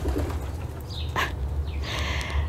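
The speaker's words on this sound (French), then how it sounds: "Les pigeons." Pigeons coo in a garden, with soft, low calls repeating steadily against faint outdoor background sound, along with a brief brighter rustle partway through.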